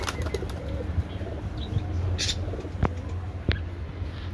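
Low, soft cooing from local pigeons at a pigeon farm murmurs steadily through the clip, with a couple of sharp clicks and faint chirps over a dull background hum.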